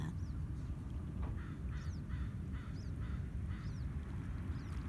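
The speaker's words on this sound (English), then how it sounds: "listening to the crows" Several short crow caws repeat at irregular intervals over a steady low rumble of background noise.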